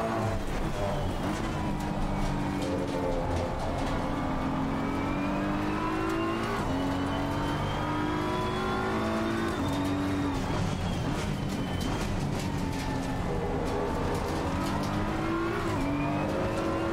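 Race cars run at night in the racing game Assetto Corsa Competizione, their engines droning loud and continuous with rising and falling pitch as gears shift, and several cars are audible together.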